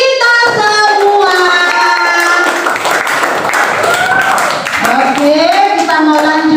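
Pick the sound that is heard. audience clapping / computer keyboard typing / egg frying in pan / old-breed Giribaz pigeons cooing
audience clapping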